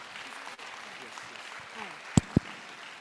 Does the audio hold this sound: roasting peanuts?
no